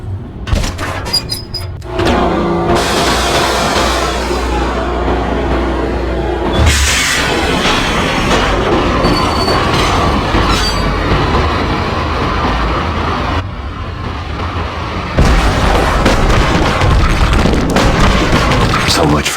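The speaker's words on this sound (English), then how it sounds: "The train lit up like a Christmas tree." Train running through a level of the video game Max Payne, a loud continuous rumbling roll with clanking bursts and short breaks, close and heavy throughout.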